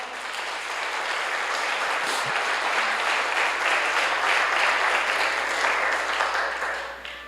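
A church congregation at a sermon bursts into sustained, dense applause that stays loud and steady for about seven seconds before starting to fade, with no speech over it.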